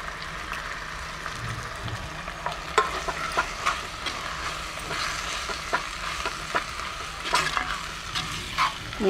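Masala and spices sizzle and fry in a clay pot, with repeated scraping and clacking strokes of a spoon stirring against the pot over a steady, close frying hiss.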